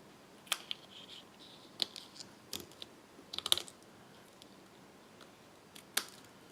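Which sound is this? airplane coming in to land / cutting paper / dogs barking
cutting paper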